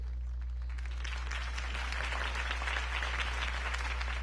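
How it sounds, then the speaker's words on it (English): A crowd applauds after a city campaign speech, steady massed clapping over a low constant hum, holding evenly for a few seconds with no voices on top. "could have heard that applause"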